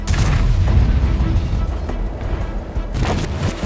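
Heavy tank cannon fire in World of Tanks, deep booming blasts with a sustained rumble, loud and close, a sharp report near the start and another near the end.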